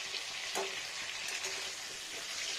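Hilsa fish fries in hot oil with a continuous bright crackle, close and fairly quiet. The sizzle holds steady throughout, with faint scrapes and pops now and then and no talking.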